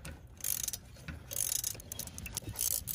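A low-clearance 5 mm hex tool ratchets out a sticky brake caliper bracket bolt on a BMW X3/X4 M40i, making close, repeated metallic ratcheting clicks in several bursts with no talking.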